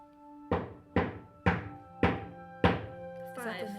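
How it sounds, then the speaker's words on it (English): Knocks answering questions in a recorded poltergeist seance: five sharp, evenly spaced thunks, moderately loud and close, with a voice starting up just after the last one. "A is 1 knock, B is 2, etc."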